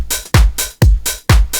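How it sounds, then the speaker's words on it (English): Original main drum loop from a sample flip, a steady pattern of three punchy kick-and-snare hits with hissy cymbal wash, loud and dry, no voices. "The main loop sounds like this originally"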